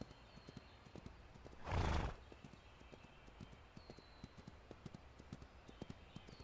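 Horse hooves clip-clop in a steady, faint patter on a ranch in the game Ranch of Rivershine, broken midway by one loud, close neigh.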